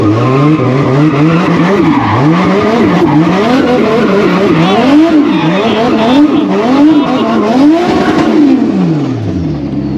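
A car being driven hard with squealing, skidding tires, the engine revving and falling in repeated swells while the squeal wavers continuously, loud and close throughout.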